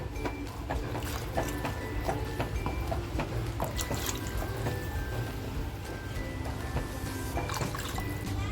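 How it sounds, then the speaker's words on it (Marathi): Water is added to fried masala in a clay pot for a spicy sardine curry, a close trickling, dripping liquid sound over steady cooking hiss with small clinks, no talking. "आता याच्यामध्ये मी पाणी टाकते"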